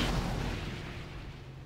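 Warship cannons fire in World of Warships, heard as a low, rumbling boom that decays slowly across the clip at moderate loudness with no talk.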